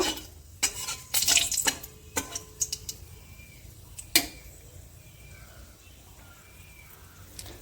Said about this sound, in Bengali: একটু নাড়া দিয়ে নেব